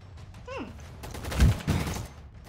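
Shotgun blasts in a Roblox gunfight, a few sharp bursts of gunfire clustered together amid in-game noise and a brief whooshing effect, moderately loud.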